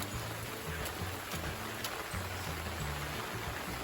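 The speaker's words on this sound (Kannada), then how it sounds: "ಇವಾಗ ಮೇಲಿಂದ ಬಂದಾಯ್ತು ನೋಡಿ ಹೆಂಗ್ ಹರಿತಾ ಇದೆ ನೀರು" Rainwater runs steadily down a hillside plantation in the Malenadu monsoon, a continuous close wash of flowing water with faint rain patter.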